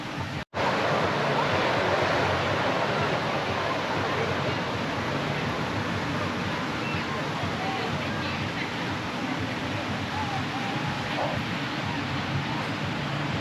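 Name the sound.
ocean waves coming in at the beach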